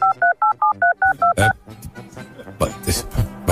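Telephone keypad DTMF tones: about eight quick, evenly spaced beeps while a phone number is entered, followed by muffled handling noise and brief voices.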